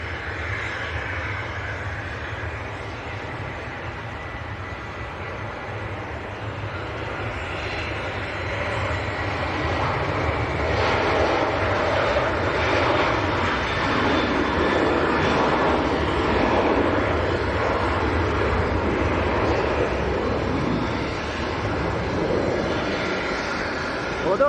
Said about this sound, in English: Here goes Ryanair 737-800 taking it from a beam Delta.